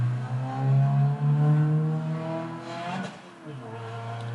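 A car or motorcycle speeds down a road nearby, its engine droning loudly and revving with shifting pitch before fading and rising again, with no talk over it.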